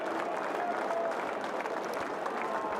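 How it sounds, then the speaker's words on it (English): Cricket crowd at Lord's during an England v India Test, a broad murmur of many spectators with a rhythmic slow hand clap running through it, with crowd voices mixed in. "The slow hand clap"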